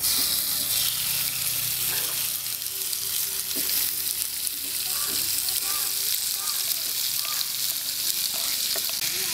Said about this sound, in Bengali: এখন একটা ফ্রাই প্যানে দিয়ে দিচ্ছি এখানে আমি চার চামচের মতো রান্নার তেল আর এখানে যে কেটে নেওয়া পেঁয়াজ রসুন আর চিকেন আছে ওগুলো ঢেলে দিচ্ছি